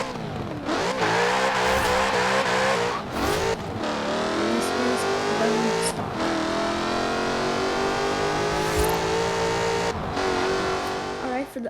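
Lexus RC F in Forza Horizon 4, engine revving hard through a run of rising acceleration pulls with quick gear changes, loud and continuous throughout.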